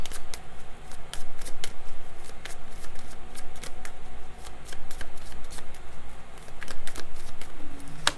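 Tarot deck being shuffled by hand, a loud, close, continuous riffle of papery flicks and slaps in quick irregular bursts, with no talking.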